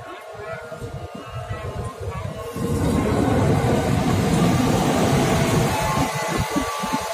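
KUJR Arjuna rail track measuring train, a new Indonesian track and overhead line inspection train, rumbling past loud and close, its roar swelling midway and holding steady with wind noise and crowd murmur.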